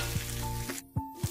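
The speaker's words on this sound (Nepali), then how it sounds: "लसुन र अदुवाको पेस्ट सबै मसलाहरू एकैचोटि हालेर मजाले रातो हुने गरेर मसलाहरूलाई भुट्ने" Garlic-ginger paste and spices frying in hot oil, a bright sizzling hiss broken by a few soft knocks of a spoon against the pan, close and brief.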